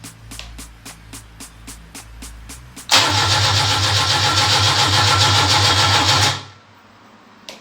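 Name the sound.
Fiat car engine being cranked over by the starter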